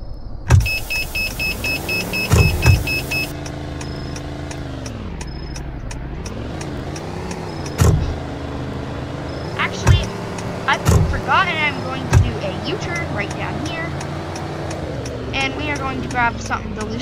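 A car engine hums and revs while driving in the Roblox-style game Greenville, with electronic beeps and short clicks over the drone and people chatting throughout.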